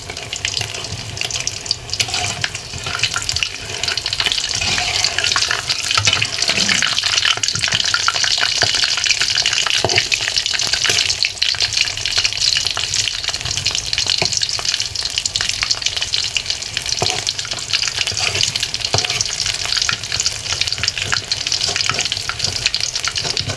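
Radish and bottle gourd fritters fry in a pan of oil, giving a steady, close, dense sizzle that runs unbroken throughout, with some clinks and watery splashing mixed in.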